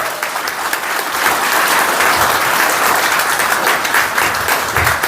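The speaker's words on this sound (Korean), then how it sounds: "큰 박수 부탁드려요" Loud, sustained applause from a crowd at a political party's Incheon chapter launch rally as a candidate is welcomed, a thick continuous wash of many hands clapping, steady and close throughout.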